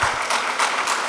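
An audience breaks into dense, continuous applause at a Tamil film launch event, a crowd-wide wash of clapping heard close and loud without pauses.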